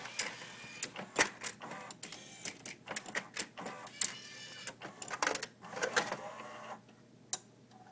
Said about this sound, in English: you have quite a bit of mechanical noise in between songs